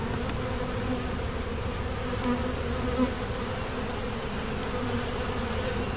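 A dense, steady buzz of many honeybees swarming close around their hive, a continuous droning hum with no breaks and no voices.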